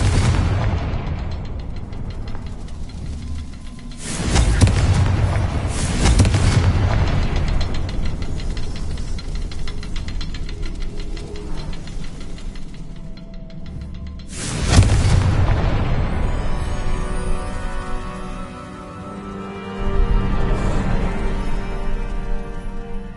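Confringo fire spells blasting in Hogwarts Legacy: three heavy booming explosions spaced several seconds apart, each followed by a rumbling, crackling decay, with no voices.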